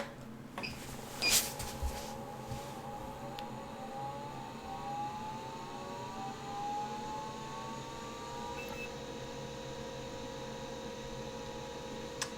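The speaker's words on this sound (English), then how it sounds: "that's the characteristic sound of the drive starting up" A vintage Seagate MFM hard disk drive powers up with its motor spinning, heard close up: a steady hum with rising whine tones that sweep upward over several seconds and settle into a constant pitch, plus a few clicks near the start.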